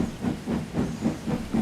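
A steam engine hauls a goods train, giving a steady rhythmic chuff of exhaust beats with a soft hiss between them, heard alone and fairly close.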